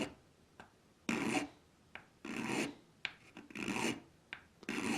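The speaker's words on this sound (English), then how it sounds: "I'm just very gently filing." Gentle filing of a model railroad car roofwalk, quiet close rasping strokes in an uneven rhythm of about six passes with short pauses, no talk.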